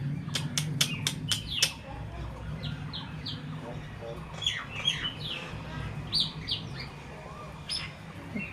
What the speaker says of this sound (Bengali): ও বাবা, শালিক কত কথা বলছে।